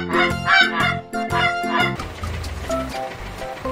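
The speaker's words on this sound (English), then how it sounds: "Here is the goose." A goose honks several times in quick bursts, loud and near, followed by a softer honk amid rustling background noise.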